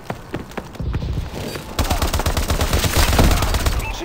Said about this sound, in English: I'm shooting it with the shotgun and it's not doing jack squat to him.